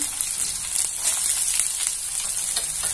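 Ginger pieces and onion fry in a pan over a high flame, giving a close, steady, hissing sizzle with faint crackles throughout.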